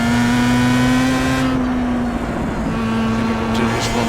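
A race car engine in a sim racing game holds a steady high drone, then eases as the revs drop, with a faint whine coming back near the end.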